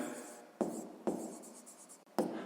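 Marker or chalk strokes on a board during a sixth-grade math lesson, with three sharp scratchy onsets at a steady pace, each trailing into a rubbing scrawl, close and fairly quiet with no voice.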